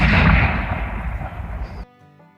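A reenactment cannon of the English Civil War era fires one loud, close, booming blast, and the rumble slowly fades before dropping away.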